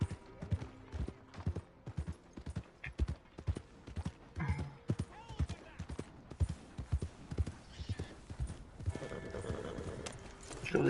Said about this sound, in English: Eita, cavalo doido